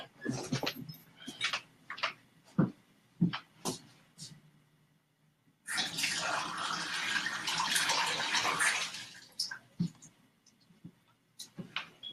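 Water runs from a tap in a steady rush for a few seconds in the middle of the clip, between scattered clicks, knocks and handling noises indoors.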